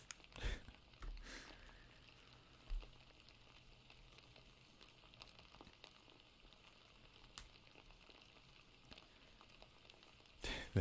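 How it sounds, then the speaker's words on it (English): Continuous low hiss of rain falling on a surface, faint and uniform, with a few brief louder crackles near the start and end. "This rain noise is making me tired."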